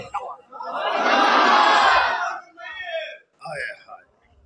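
A large crowd roars a loud shouted response to a religious slogan at a devotional gathering on the Companions and the Prophet's family. A sustained swell is followed by shorter ragged bursts of shouting that trail off.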